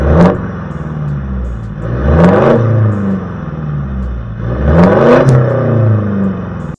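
A modified Toyota Fortuner VRZ engine revved up repeatedly, loud and close, with a low rumbling idle between three rising throttle blips.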